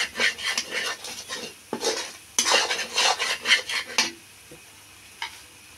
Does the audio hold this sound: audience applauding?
no